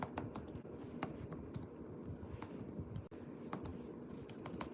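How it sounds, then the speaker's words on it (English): Steady, fast clicking of keys on a computer keyboard, close and continuous with no talking. "I'm so cringe when I'm typing."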